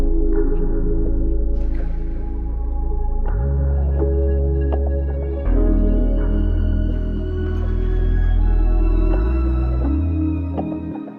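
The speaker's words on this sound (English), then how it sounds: "I added this low bass with some glides to give it some more rhythm" A deep low bass in an RnB beat slides between notes with pitch glides, sustained and loud, the held tones shifting every few seconds over light higher layers, with no one speaking.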